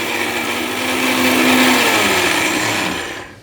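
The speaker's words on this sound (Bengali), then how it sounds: "আচ্ছা দেখেন এই যে কি দেখেন অবস্থা ছিল কি আর সেই ভাইরাল এই ব্লেন্ডার এই ব্লেন্ডার" A blender motor runs loud and steady, grinding hard chickpeas into gram flour, the whine swelling in the middle and then winding down toward the end, with no voices.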